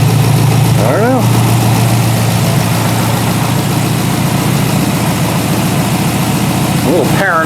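A V8 engine swapped into a Porsche 944 idles steadily and loud during a cooling system test, a constant low rumble with a brief higher whine near the start and again at the end.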